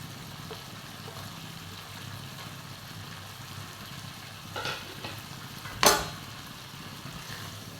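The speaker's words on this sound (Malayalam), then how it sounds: "ഇനി ഇതിലോട്ട് മുട്ട ചേർത്ത് കൊടുക്കാം" Eggs go into a frying egg roast masala, a low steady sizzle with a brief stirring rustle and one sharp clatter near the end, moderately quiet with no talking.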